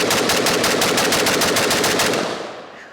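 Riley Defense 7.62x39 AK-pattern rifle firing a rapid string of loud, evenly spaced shots up close, the echo trailing off as the firing stops.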